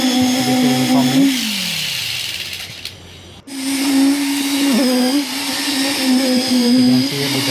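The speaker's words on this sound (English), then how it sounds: "we are compacting the concrete. Help of vibrator to get a uniform mix." Concrete vibrator compacting fresh concrete in a reinforced beam: a steady, loud mechanical drone that winds down, breaks off briefly, then restarts and runs continuously near the listener.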